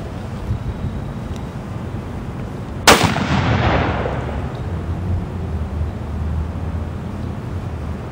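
A Steyr SSG P2 rifle fires one sharp, loud shot at an outdoor range, and its echo trails off over a couple of seconds against steady wind and background hiss.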